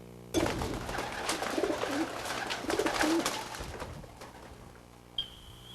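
Racing pigeons coo in a low, steady murmur with several overlapping birds close by and no talking, followed by a brief thump near the end.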